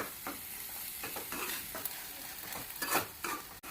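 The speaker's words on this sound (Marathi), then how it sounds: "2-3 मिनिटं मटकी इथे परतून घेतलेली आहे" Moth beans (matki) stirred and sautéed in a pan for a usal, with steady frying crackle and irregular scraping strokes of a spoon, close and moderately loud, no talking.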